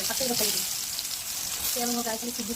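Loud, continuous sizzling of raw banana slices frying in hot mustard oil, with a person speaking briefly over it at the start and end.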